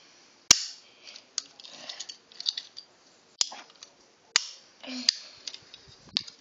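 A Super Bang toy cap gun fires caps in several sharp, loud cracks spaced irregularly, with quieter clicks and handling noises between shots.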